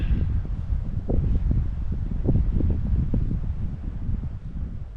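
Gusty wind buffets close to the microphone, a low rumbling roar that rises and falls throughout.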